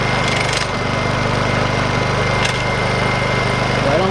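Portable generator engine running steadily on its mounting bushings, a loud continuous droning hum with a fast mechanical pulse, close up and unbroken throughout.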